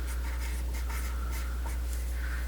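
Pen writing on a paper world diagram, marking a convergent subduction boundary: soft repeated scratchy strokes over a constant low hum, close and fairly quiet, with no talking.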